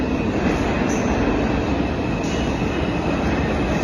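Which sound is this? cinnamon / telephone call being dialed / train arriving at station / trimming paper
train arriving at station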